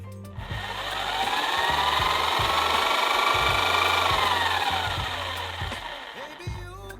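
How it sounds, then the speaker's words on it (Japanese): A handheld electric jigsaw, model SJS-40, runs through a long straight or curved cut in wood, a steady buzzing motor whine with a rhythmic low reciprocating chatter, rising in the first second and easing off near the end. "木材を長い距離カットしたり、曲線などをカットするときにジグソーを作動させる"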